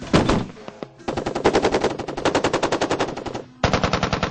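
Machine gun fire at an outdoor hillside range, recorded for the SOCOM Confrontation video game: a short loud burst, then a long rapid stream of rounds, then another burst after a brief gap. The shots are near and sharp.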